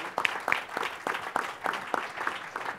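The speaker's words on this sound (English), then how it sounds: "So let's have a round of applause for our panelists just to start." Sparse clapping from a small panel-discussion audience welcoming panelists, a handful of distinct claps spaced irregularly, fairly quiet in the room.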